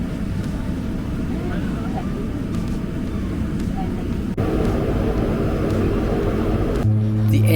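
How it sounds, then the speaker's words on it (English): A 19-seater Twin Otter turboprop aircraft hums in flight with a steady loud engine drone heard from inside the cabin, with talk partly over it and a change in tone near the end. "SKS Airways uses the 19-seater Twin Otter aircraft"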